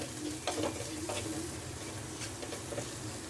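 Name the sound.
mixing dry spices into the idli mixture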